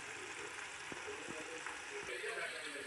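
A thick coconut burfi mixture with ghee and crushed cardamom is stirred in a pan, giving a soft continuous sizzle broken by a few faint scraping strokes, fairly quiet and alone.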